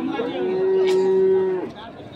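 A Sahiwal or cross-breed bull at a Shariatpur livestock market lets out one long, loud, close moo, with market chatter murmuring in the background.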